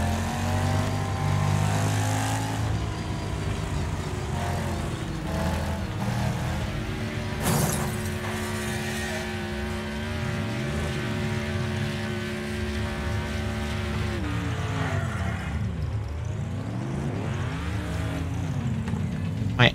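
Car engine in the Wreckfest racing game held at full throttle with a damaged engine and failing transmission, a continuous droning whine whose pitch holds, dips and swoops as other cars roar past, with a brief crash midway.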